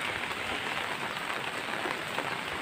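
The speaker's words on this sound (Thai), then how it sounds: "มื้อนี้ก็มาในบรรยากาศฝนตกลิ่น" Light drizzling rain falls steadily on surfaces outdoors in a rural farming setting, giving a continuous, close hiss of fine patter with no voices.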